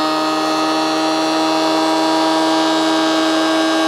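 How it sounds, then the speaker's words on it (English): A jointer flattens a board for a charcuterie board with exotic wood accents, producing a loud, steady, high-pitched motor whine with a cutting roar. The sound is continuous and close, with no talk. "next up's the joiner here. Just gonna flatten this out."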